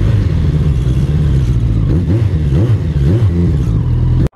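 A Big Boy TSR 250 motorcycle engine revs up and down close by, several rising and falling throttle blips over a steady low idle that cuts off abruptly at the end.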